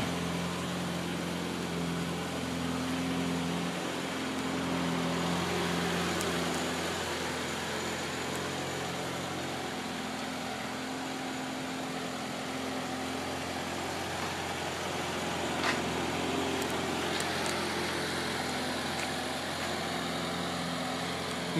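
A 1982 BMW 325 engine idles warm after a 20-minute drive, a steady low hum with a faint tone riding on top, constant and unbroken.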